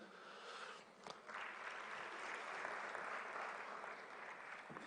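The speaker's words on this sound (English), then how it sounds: "a hand of applause for her, please" Sustained applause from the audience at the opening session of a central banks' association meeting, a steady broadband patter of many hands filling the hall, with a brief dip near the start before swelling again.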